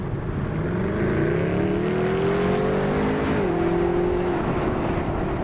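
A Mercedes SLS engine sounds loudly and steadily throughout, its tone holding a continuous drone that rises in pitch before shifting down and settling, with no talking.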